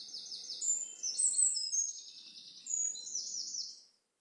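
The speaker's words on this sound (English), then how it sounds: "And I think that serenade we've just had is a blackbird." A blackbird sings in woodland, giving a run of bright, fluting, warbling phrases with short pauses between them. It sounds fairly close and stands clear over a faint, quiet background.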